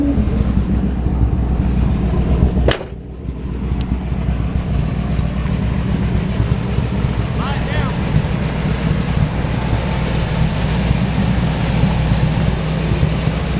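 A 1972 Chevrolet C10 pickup with power steering and a big back window drives along, giving a steady, close interior drone of engine and road rumble with wind hiss and a single sharp click early on.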